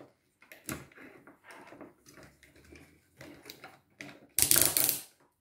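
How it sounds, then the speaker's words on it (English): Ratchet joints on a Transformers Movie Masterpiece MPM-08 Megatron figure click sharply in scattered bursts, close and loud, with a final burst of louder clicking. "Apologies to headphone users for how loud those ratchets are"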